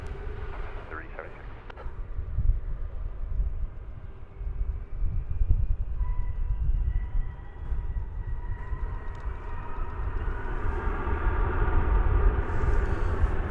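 A heavy North American jet takes off from runway 18 Left at DFW airport, a broad rumbling roar that holds steady and slowly swells louder toward the end, heard from a distance.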